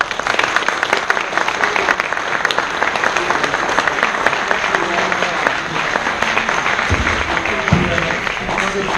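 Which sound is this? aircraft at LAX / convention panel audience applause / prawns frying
convention panel audience applause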